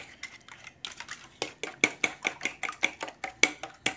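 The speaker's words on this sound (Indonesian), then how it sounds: "diaduk terlebih dahulu" Carp bait mixture stirred in a bowl, a quick regular run of bright clinks and scrapes of a spoon against the bowl, close and clear, speeding into a steady rhythm.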